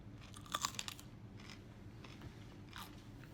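A cucumber is bitten with a crisp crunch, then chewed in a few soft wet crunches, close up and faint against a quiet room.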